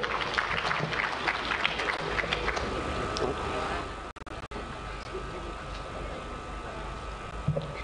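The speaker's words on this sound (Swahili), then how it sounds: "Naomba tumpigie makofi." Audience applause at the opening ceremony of the 46th international Sabasaba trade fair in Tanzania, a steady wash of clapping from a crowd that runs throughout, with a brief dropout midway and faint background murmur.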